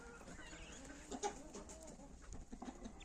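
A tame hen clucks softly nearby, a few faint, brief clucks scattered over a quiet farmyard background.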